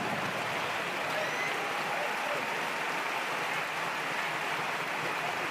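A basketball arena crowd in a Champions League game applauding a player as he rotates out, a dense, steady wash of clapping that fills the space throughout.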